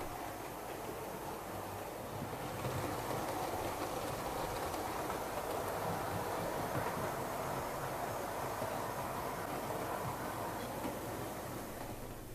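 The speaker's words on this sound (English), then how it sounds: "She's hauling some lovely Bachmann Southeastern and Chatham Railway birdcage coaches." A small model steam locomotive, an SECR H class hauling Bachmann birdcage coaches, rumbles steadily along the track, a continuous rolling hum with faint rhythmic clatter, no voices.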